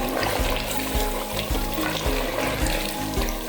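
Mutton for kunna gosht sizzles and fries in a pot, a steady close hiss of hot oil and meat juices with soft periodic stirring thumps, no talking.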